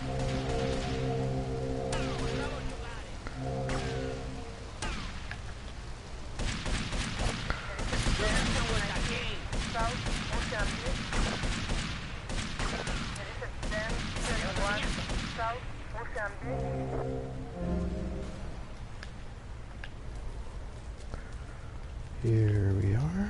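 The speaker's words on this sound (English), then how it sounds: "Who's shooting at me?" Gunfire crackles in GTA Vice City Definitive Edition as bursts of rapid shots, loud and clustered through the middle, with quieter stretches before and after and a voice speaking briefly over it.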